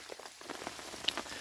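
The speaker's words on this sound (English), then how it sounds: "At the same time it's raining." Rain falls steadily at a campsite during Tropical Storm Imelda, a close, continuous patter of drops on wet surfaces with a few sharper nearby splats and no voices.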